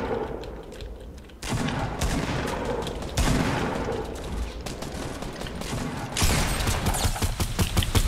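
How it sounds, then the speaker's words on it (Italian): Rapid bursts of gunfire crackle continuously in Fortnite, with loud volleys and sharper repeated shots, the dense synthetic clatter of game combat. "Mi stanno sparando dall'altra parte."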